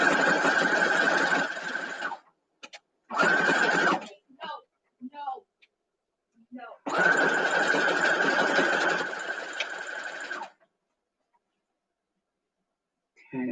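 A sewing machine quilting a Trip Around the World wall hanging hums in long steady runs with short stops, close and loud, and brief speech slips into the gaps.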